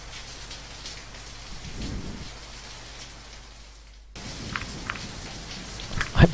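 Heavy rain in the visual novel Angels with Scaly Wings, a steady close downpour hiss with a low thunder rumble, briefly cutting out and resuming with sharper drip and splash ticks.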